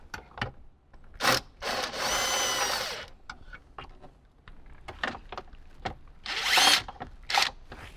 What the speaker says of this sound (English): let's go ahead and get those 4 bolts removed